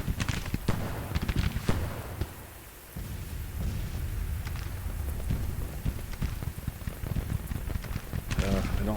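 Musket and artillery fire in a Civil War battle game, dense crackling volleys and irregular sharp reports rolling on continuously like heavy rain, with occasional louder bangs in the mix.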